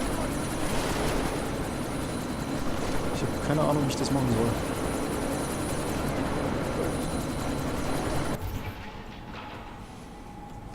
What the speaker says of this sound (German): Ich muss verhindern, dass dieser Helikopter abhebt